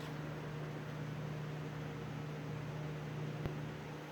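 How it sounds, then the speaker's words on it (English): The fan of a paint booth filtration system runs with a steady low hum under broadband airy noise, constant throughout, with one brief click near the end. "sorry for the fan in the background, but that's my filtration system"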